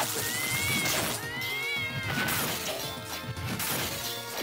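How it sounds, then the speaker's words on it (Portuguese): A cat meows inside the Pokémon Dawn of Dissonance hack video game, amid dense, loud game music and effects that fill the whole clip, with no talk. "O gato ainda mia, mano."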